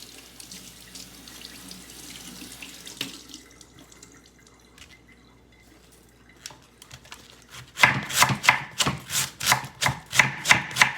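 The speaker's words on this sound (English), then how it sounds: "I'm just gonna wash the cabbage right here" Water from a kitchen tap splashes into a sink as cabbage is rinsed, a soft running stream early on. A quick series of sharp, rhythmic knife chops on a board follows near the end.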